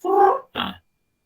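A voice imitates a chicken with two short, gruff clucking bursts, the first longer, then silence.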